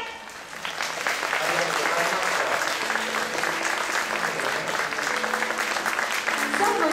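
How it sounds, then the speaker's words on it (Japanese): Big round of audience applause after a floral arrangement demonstration, dense steady clapping that swells in after a quieter first moment and carries on evenly throughout. "それでは皆様、盛大な拍手をお送りください。"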